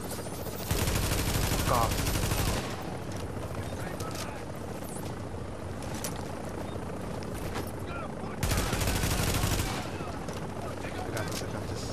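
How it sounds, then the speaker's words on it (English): Sustained automatic gunfire from enemies in The Division's Dark Zone, coming in two long loud bursts with quieter firing between, while a player swears briefly. "Yo, that fucker's shooting forever."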